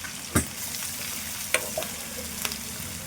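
Chicken with ginger garlic paste sizzles steadily in a tempering of oil, with a few sharp spoon scrapes and stirring clicks over the constant frying hiss.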